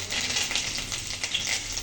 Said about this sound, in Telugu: వేసుకొని దాంట్లోకి కొద్దిగా ఆవాలు, కొద్దిగా కరివేపాకు వేసుకొని ఫ్రై చేసుకోవాలి